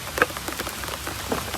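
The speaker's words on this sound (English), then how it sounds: "I think we're about to get rained on a lot harder." Rain falling steadily on an outdoor work site, a dense patter of drops with a couple of louder nearby splashes, no voices.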